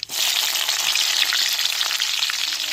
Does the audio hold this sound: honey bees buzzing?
no